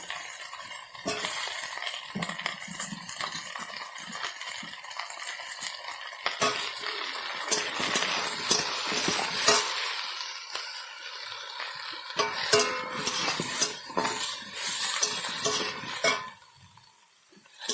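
Eggplant frying in hot oil in a pan, with loud continuous sizzling and repeated scraping and clinking of a spatula as the pieces are stirred. The sound cuts out briefly near the end.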